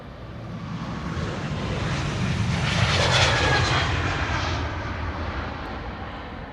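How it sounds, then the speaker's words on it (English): A JetBlue Airbus A321neo jet passes at Schiphol's Polderbaan, its engine roar building gradually to a broad peak and then fading, steady and unaccompanied by voices. "this is JetBlue Flight 32 going to Boston, Massachusetts. It's an A321neo, 3 years old."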